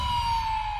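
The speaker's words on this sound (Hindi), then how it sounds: "एम्बुलेंस" A steady electronic ambulance siren holds a high, piercing tone over low rumbling traffic noise.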